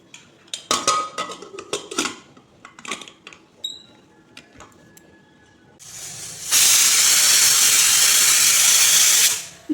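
Scattered clinks of pots and utensils, then a pressure cooker cooking radish with water and salt lets out a loud, sustained hiss of steam that lasts several seconds before cutting off.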